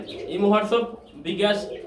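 Pigeons on sale at a bird market coo in two soft, throaty rounds close by, with someone talking throughout.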